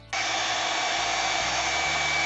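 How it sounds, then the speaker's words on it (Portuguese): A hair dryer blows air onto freshly applied craft paint, a steady, loud, continuous whoosh with a high whine running throughout, starting abruptly and holding an even level with no talk. "eu vou usar um secador de cabelo"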